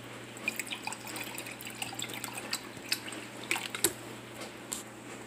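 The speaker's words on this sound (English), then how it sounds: "Fill a cup with water." Water trickling and dripping into a cup, faint and close, with small splashes and drips over a low steady hum and no talking.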